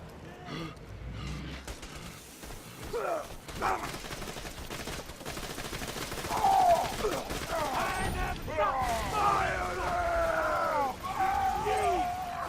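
The Anarchist shotgun-pistol fires in Borderlands 2 while the player is Gunzerking, with dense, overlapping bursts of shots running throughout amid game effects and grunting vocal sounds.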